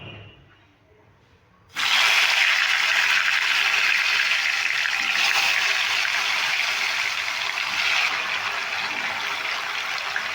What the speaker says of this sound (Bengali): তেলটা খুব ভালো গরম হয়ে গেছে নুন হলুদ মাখিয়ে রাখা আলুগুলো আমি দিয়ে দিচ্ছি